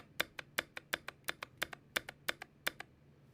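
Steady typing on a Zoom65 EEV2 mechanical keyboard, with the spacebar among the keys pressed: crisp, close clacks in a fairly even rhythm, around a dozen strokes, with no talking.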